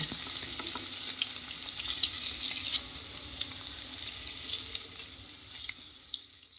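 Paneer pieces frying lightly in a pan, a constant bright crackling sizzle with small pops throughout, heard close and on its own.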